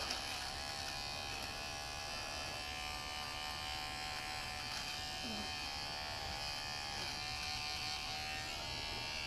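A Remington electric nose trimmer trimming hair around the ears, a steady close buzzing hum that runs unbroken throughout.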